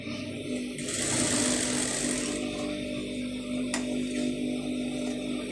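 A sewing machine runs in a steady whirring burst as it stitches two fabric pieces of a neck design together, close and moderately loud, then slows and stops with a faint click.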